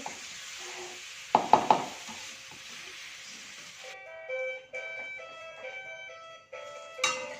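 Potatoes, shrimp and quail eggs for sambal are stirred in a frying pan, with soft sizzling, a few sharp utensil clacks against the pan, then a jingly tune playing over the cooking.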